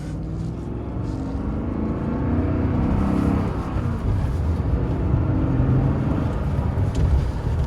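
Engine of a BMW E52 Z8 roadster, a loud, deep, steady rumble heard from inside the car as it drives, swelling slightly partway through and holding a throaty drone with no speech.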